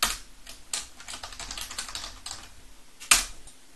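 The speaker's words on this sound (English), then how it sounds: "you'll have to type in your username," A password typed on a computer keyboard while setting up a small headless computer: a quick, uneven patter of close key clicks, ending in one sharper, louder keystroke like the enter key.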